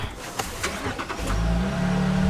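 A car engine cranks and catches, settling into a low steady idle hum after a few quick starter pulses.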